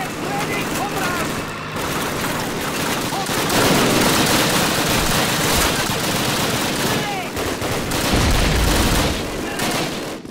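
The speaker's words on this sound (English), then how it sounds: "Machine guns! Machine guns ready!" Machine gun fire and explosions fill a Call of Duty battle at Pavlov's House in the Russian campaign, a dense, continuous roar of rapid gunfire with bursts and booms that stays loud throughout, with shouted voices woven into the din.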